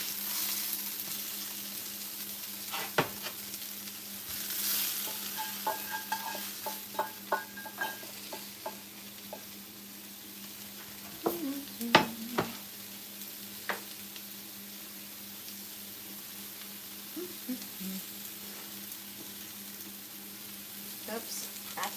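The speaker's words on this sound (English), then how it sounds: "I'm gonna put the caramelized onions in here" Caramelized onions sizzle softly in a pan while a spoon scrapes and stirs them in scattered taps, fairly quiet and close, with a few light clinks and occasional voices in the background.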